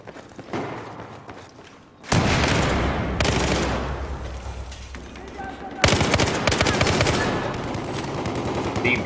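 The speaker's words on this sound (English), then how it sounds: "The burst fire, it helps you get some kills." Burst-fire gunshots in the video game Battlefield 4 come in loud, dense clusters: a quieter stretch first, then sustained heavy firing from about two seconds, with another sharp onset near six seconds, amid battlefield noise.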